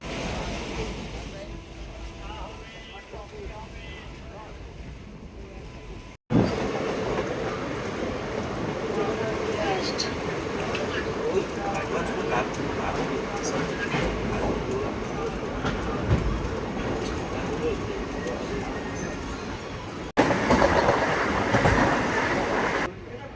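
The Sealdah–Jangipur Express runs steadily on rails, a continuous rumbling roar of wheels and carriages heard from inside the train, with faint clatter throughout and a short quieter stretch near the start.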